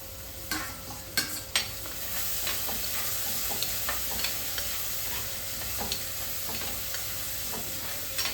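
Tomatoes fry in a pan with a steady sizzle while a spoon stirs and scrapes against the metal in short, uneven strokes, close and clear with no voices.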